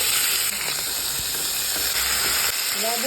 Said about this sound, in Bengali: চিকেনগুলোকে তেলে দিয়ে দিচ্ছি